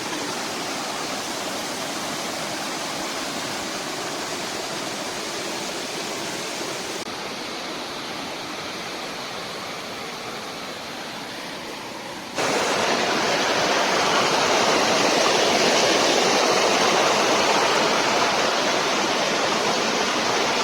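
A river in the rainy season rushes hard over a check dam, a loud steady roar of churning water that stays broad and constant throughout and grows louder toward the end, with no voices.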